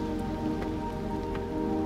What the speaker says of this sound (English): Maybe that rain will go away. Apparently it didn't. It's still raining.